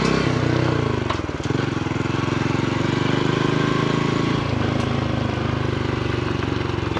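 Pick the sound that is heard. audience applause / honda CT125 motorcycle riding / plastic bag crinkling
honda CT125 motorcycle riding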